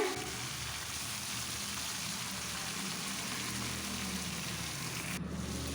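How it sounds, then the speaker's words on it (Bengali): Steady, even sizzling of a large fish head frying in hot oil, a constant crackling hiss that continues without a break before cutting off near the end. "এইভাবে আমি মাছের মাথাটাকে ভেজে নিচ্ছি"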